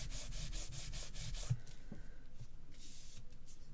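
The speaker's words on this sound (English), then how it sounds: "Just rub back over with your embossing buddy." Steady close rubbing of an embossing buddy over card, with a rhythmic scratchy texture and one sharper tap midway through.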